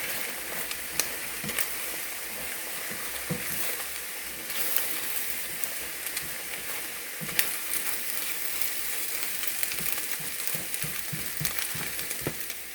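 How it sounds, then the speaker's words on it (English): An egg is scrambled in a hot frying pan: a continuous sizzle runs throughout, broken by frequent close scrapes and taps of a utensil against the pan. "We just want to scramble our egg."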